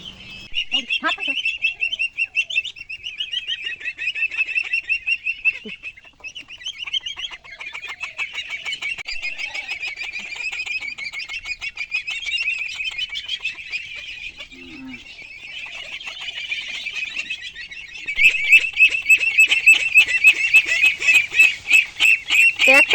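Ducklings call over and over while being vaccinated, a dense run of shrill, close peeping and quacking that carries on throughout and grows louder and busier toward the end.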